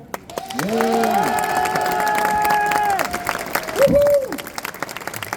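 A convention audience at a Simpsons voice-actor meet-up at Geeklife Blois 2025 bursts into steady applause mixed with loud cheers and whoops, holding for several seconds before a single voice rises near the end.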